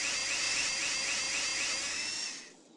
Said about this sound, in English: Drill holes in the wheels so you can attach them to the racer.